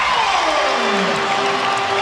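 Basketball arena crowd roaring after a Dwight Howard two-handed slam dunk, a loud continuous wash of cheering and applause throughout.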